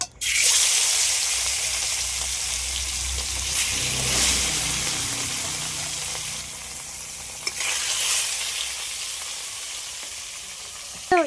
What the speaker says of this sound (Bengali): এবার মাছগুলো সব ভেজে নেব।